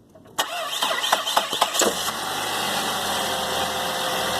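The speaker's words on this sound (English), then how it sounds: "Start the car." A 2004 Saab 9-5 wagon engine cranks with several quick starter bursts, catches, and settles into a steady, fairly loud idle with a constant hum.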